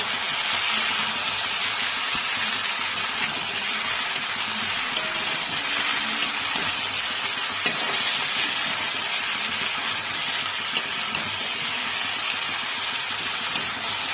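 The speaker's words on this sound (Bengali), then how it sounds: "সবজিগুলোকে ভালো করে একটু ভাজা ভাজা করে নেব।" Chunks of ridge gourd and eggplant fry together in a pan with a continuous, even hiss of sizzling that holds steady throughout, with a few faint clinks and knocks.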